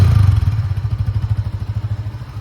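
Idling Honda CB300F Flex Fuel motorcycle running on an ethanol-petrol blend, a steady close low thumping engine pulse with a fast even rhythm, heard alone without talk.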